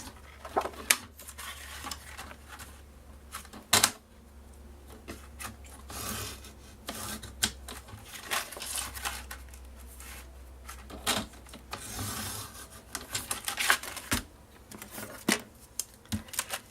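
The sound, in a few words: cutting paper for scrapbook file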